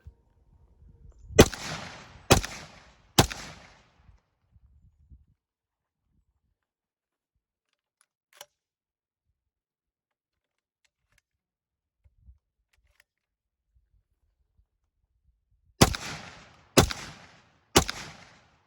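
Stoeger M3000 shotgun firing, two bursts of three loud sharp blasts, each volley evenly spaced about a second apart, separated by long quiet stretches with faint handling clicks.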